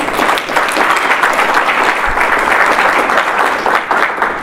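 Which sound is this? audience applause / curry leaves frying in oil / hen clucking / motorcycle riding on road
audience applause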